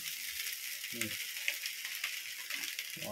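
Gobi fried rice sizzling in a pan: a steady high hiss of frying, broken by soft scraping stirs at a few points, close and fairly quiet.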